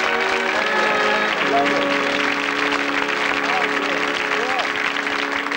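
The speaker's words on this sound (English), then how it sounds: "Give them a round of applause, folks." Applause from a 1983 British game-show studio audience rises over continuous music, the clapping fairly loud and steady throughout the short stretch.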